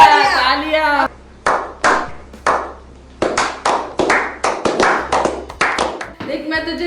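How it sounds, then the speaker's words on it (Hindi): Hands clapping at close range during a playful makeup challenge, a few separate claps followed by a quick run of sharp, evenly spaced claps, with voices before and after. "तालियां तालियां।"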